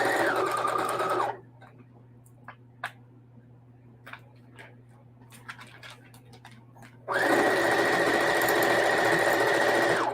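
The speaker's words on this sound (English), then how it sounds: "what I'm doing is just sewing along the side of the fabric" Sewing machine running along the side of a quilt fabric piece, two loud sustained bursts of stitching at the start and end separated by a quieter stretch of small clicks and ticks.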